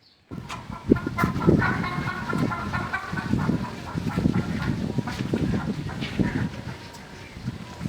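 A busy flock of free-range chickens and roosters clucks and squawks continuously nearby on a poultry farm, with scattered louder calls rising over the steady poultry chatter.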